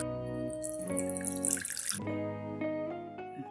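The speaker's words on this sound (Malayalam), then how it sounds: "ഇതിലേക്ക് 2 കപ്പ് വെള്ളമൊഴിച്ച് വേവിക്കണം." Water is poured into a cooking pot of dal curry with sliced vegetables and curry leaves, a short splashing gush lasting about a second over a steady musical background.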